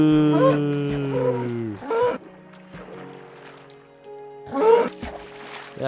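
Synthetic Minecraft cow moos sound up close, a long drawn-out low call followed later by a shorter one, with scattered game sounds in between.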